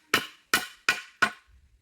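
A hammer strikes wood four times while a cot is being built, giving evenly spaced, sharp, close knocks that each ring briefly before fading, followed by faint low rumbles.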